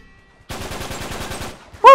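Rapid automatic gunfire in Uncharted 3 rattles out as a burst of about a dozen evenly spaced shots over one second, loud and close, followed by a voice exclaiming.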